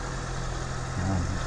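A Honda CBR650F motorcycle engine runs steadily at idle close by, a continuous low drone with a slight swell near the end as it is blipped.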